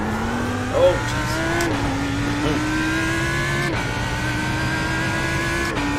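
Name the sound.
race car driving in a racing video game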